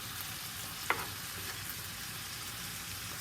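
Beef frying in a pan for bistec with potatoes, a constant close sizzle with one sharp utensil scrape as the meat is stirred, no voices.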